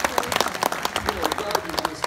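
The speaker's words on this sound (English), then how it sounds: "Let's just give him a round of applause" Audience applause at a business mastermind event, a dense patter of many hands clapping steadily with no voices on top.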